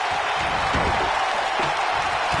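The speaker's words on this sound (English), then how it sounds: "Listen to this crowd count the next one in" A video game wrestling crowd in WWE 2K19 roars steadily. Rhythmic chanting pulses under the continuous arena noise as the fans count along, dense and sustained throughout.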